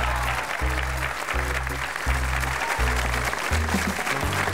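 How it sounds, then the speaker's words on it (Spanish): Studio audience applause on a New Year's Eve TV show, a loud continuous wash of clapping over rhythmic bass-heavy music pulsing underneath. "Un aplauso para Natalia Cordero."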